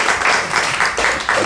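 A church congregation at a revival meeting applauds, a steady burst of many hands clapping together, close and full, with no talk over it.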